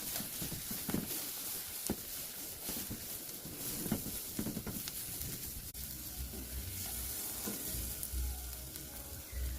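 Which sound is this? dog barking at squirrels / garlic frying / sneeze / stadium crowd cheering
garlic frying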